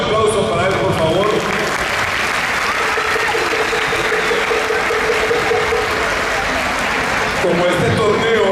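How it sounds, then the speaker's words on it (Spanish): A crowd at an international volleyball tournament's opening ceremony gives loud, sustained applause that fills the space evenly for several seconds, with a voice over a loudspeaker at the start and end. "pido un fuerte aplauso para él, por favor"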